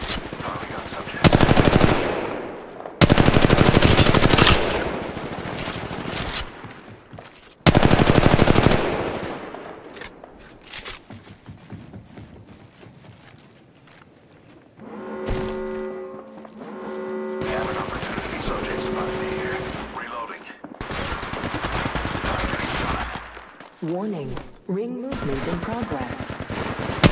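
Video game gunfire from Apex Legends Mobile, loud bursts of automatic shots in several separate volleys with quieter gaps between them, mixed with tonal game sound effects and a short stretch of talk.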